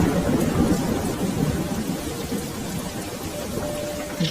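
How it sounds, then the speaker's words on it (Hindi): Animated-scene sound effect of steady heavy rain with rolling thunder, a continuous dense wash of falling water under a low rumble, with no voices. "ठंडी हवा बारिश को मेरे चेहरे पर उड़ाने लगी"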